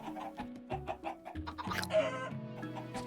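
Chickens clucking in Minecraft, a series of close, clear clucks and squawks in an uneven rhythm, heard alone without talk.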